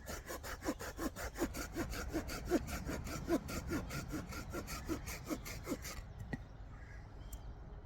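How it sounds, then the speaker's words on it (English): Folding saw cutting through a branch outdoors, a rapid rhythmic rasp of about a dozen back-and-forth strokes, close and clear, ending abruptly into quiet with a faint knock. "take our folding saw, and that way when I make the cut, it's outside"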